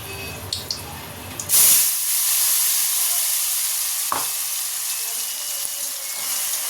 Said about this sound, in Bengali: আদা, টমেটো, কাঁচা লঙ্কা আর একটু কাজু, এগুলো সব একসঙ্গে দিয়ে দেবো